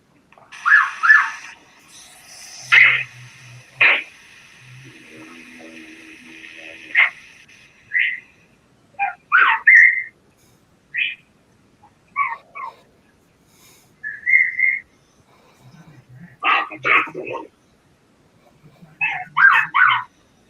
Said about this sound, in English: let me just play the whistle interaction for you because it's done through the vocal.